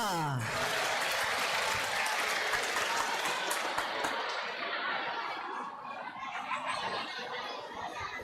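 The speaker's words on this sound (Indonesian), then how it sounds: "Tepuk tangan untuk kita semua." A large audience at a university student orientation event bursts into loud, dense applause. Laughter and chatter are mixed in, and the clapping thins toward the end.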